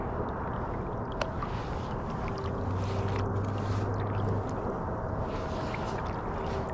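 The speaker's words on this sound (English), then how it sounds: "I'm gonna try to just paddle backwards and see if we can make something happen here." Boat on open water being paddled backwards, a low steady wash of water and wind noise with a faint splash or knock early on and a soft hum partway through, no talking.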